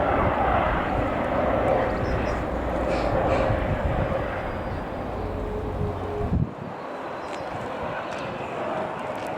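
Eurocopter EC135-P2+ power-line inspection helicopter making a low pass nearby, a steady loud rotor and turbine roar mixed with wind buffeting on the microphone, dropping away abruptly partway through and continuing more quietly.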